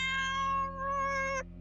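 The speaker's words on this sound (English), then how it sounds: "cats." A cat gives a single long, drawn-out meow, close and clear, ending abruptly over a steady low hum.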